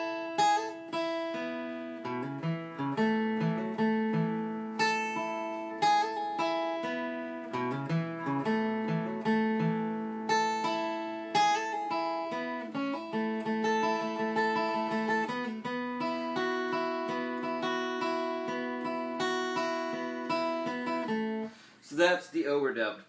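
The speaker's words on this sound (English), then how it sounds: "So that's the overdubbed part, and it's just kind of these high little twinkly kind of sounds." Overdubbed acoustic lead guitar from Oasis' Wonderwall picks high, twinkly repeating notes over strummed acoustic chords, steady and clear throughout, with a brief louder burst at the end.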